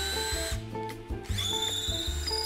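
A DOLIZ BD637 thin brushless drill with a 1.8 cm motor bores through thicker material at high speed, giving a close, loud steady whine with brief dips and rising pitch as it cuts.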